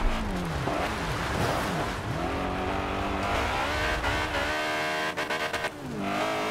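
A Honda S2000 Fast & Furious Edition in Forza Horizon revs hard through the gears, engine tone sweeping up and dropping in repeated climbs with a brief tire squeal, loud and close, with no voices.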